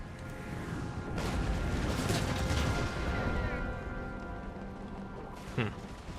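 Distant artillery fire in the video game Empire: Imperial Splendour, a dense battlefield rumble with booming cannon shots, one sharper blast near the end, under continuous low battle noise.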